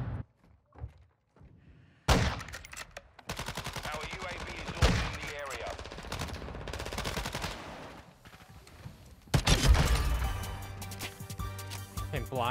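Rapid automatic gunfire rattles in dense bursts during a Modern Warfare 2 match, with thuds and impacts mixed in and a loud final burst near the end.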